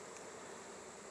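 Honeybees at a hive being built up for winter give off a steady, faint, even buzzing hum that holds unchanged throughout, with no voices.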